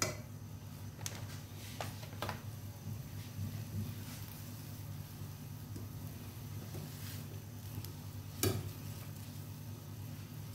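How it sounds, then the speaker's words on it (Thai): Steady bubbling and hissing of water at a rolling boil in a pot, continuous and close, with a few faint clicks and a sharper clatter near the end. "น้ำเดือดก็แล้วค่ะเนาะ"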